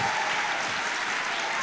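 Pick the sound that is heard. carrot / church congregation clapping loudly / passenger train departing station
church congregation clapping loudly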